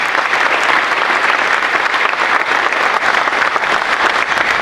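Steady, dense applause from an audience at a civic meeting fills the whole stretch, even and loud with no break and no voices over it.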